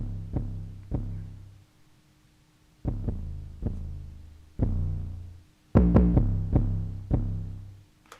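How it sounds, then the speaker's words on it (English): A deliberately clipped, distorted 808 bass in Ableton thumps in a sparse beat pattern, each deep boomy hit decaying slowly, with a denser cluster of louder hits near the end, alone without voices. "So I purposely make my 808 clip to give it a certain level of distortion"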